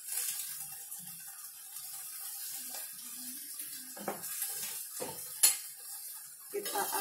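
A water spinach stir-fry is stirred in a wok, with faint scraping and clinking of a utensil against metal over a quiet kitchen background, plus a few louder knocks.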